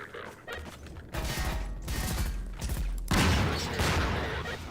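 Gunfire in Half-Life 2 aimed at barrels and Combine soldiers, a sustained clatter of shots and mechanical impacts that grows louder in bursts, with no talking.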